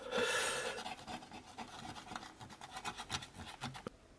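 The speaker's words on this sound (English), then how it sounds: "And then just giving it a wipe down, so a bit of white vinegar, just so I can see where I'm at" A cloth wipes a corroded Commodore Amiga 500 circuit board with white vinegar, making close rasping rubs in quick back-and-forth strokes, loudest at the start.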